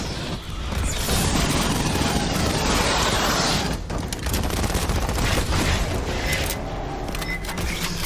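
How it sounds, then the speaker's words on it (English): A submachine gun fires in the Aliens: Fireteam Elite video game, a dense, nearly continuous rattle of loud shots with booming impacts, sustained over several seconds. "is a submachine gun, which is like a mini pulse rifle anyway"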